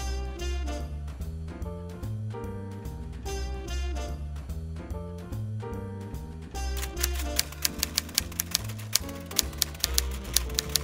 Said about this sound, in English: This is a wonderful Royal Aristocrat typewriter.